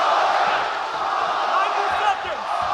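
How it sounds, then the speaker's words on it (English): Arena crowd at a UFC fight roaring steadily in support of a fighter late in round 2, a dense continuous wash of cheering that swells briefly near the end. "Crowd getting behind Holloway here late in round 2."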